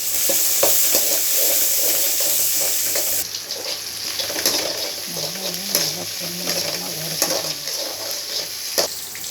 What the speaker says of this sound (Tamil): கடுகு நல்லா பொரிஞ்சுக்கப்புறம்